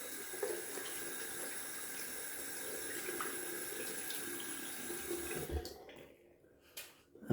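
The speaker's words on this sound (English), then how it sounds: "I like to rinse out my soaps immediately after I loaded my brush." Tap water runs steadily into a sink while a shaving brush is rinsed after loading it with shaving soap, a soft continuous hiss that cuts off near the end with a few clicks and handling sounds.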